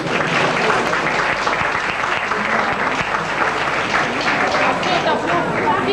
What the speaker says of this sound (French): Je voudrais aussi que vous les remerciez d'avance par vos applaudissements